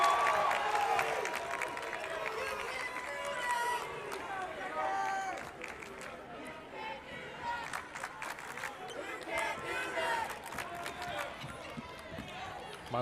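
Home crowd cheering in a gym during a boys high school basketball game, a continuous chant-like roar with sneaker squeaks and ball bounces, and an announcer talking over it throughout.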